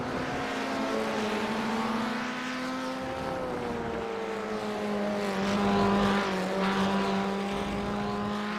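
Race car engines in the iRacing sim game at Laguna Seca or Imola, Formula Ford 1600 or TCR, drone steadily and loudly with shifting pitch as revs rise and fall, continuous for several seconds with no talk.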